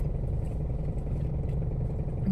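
Road traffic rumbles steadily through a street in Narvacan, Ilocos Sur, with continuous low engine noise from passing cars and motorcycles at moderate distance and no clear pauses.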